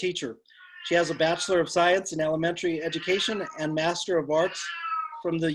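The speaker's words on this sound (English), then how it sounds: "That's my cat." A pet cat meowing repeatedly and loudly up close, drawn-out wavering cries in quick succession during a webinar, with someone speaking underneath.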